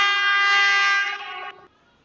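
A train horn sounds in an Indian railway crossing simulator game as the train arrives: one loud, sustained tonal blast that holds steady, then drops in level and cuts off, with no voices.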